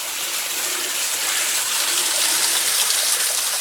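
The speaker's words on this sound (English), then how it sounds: "There's the waterfall." Waterfall beside an old railway trestle on a foggy day, a steady broadband roar of falling water that holds even and constant throughout, close and fairly loud with no voices.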